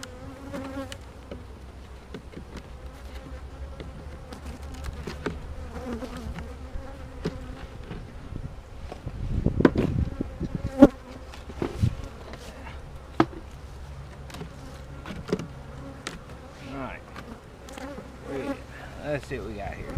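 Honey bees buzz in an opened hive split, a steady insect drone with a few louder swells as bees fly close, and occasional soft handling knocks.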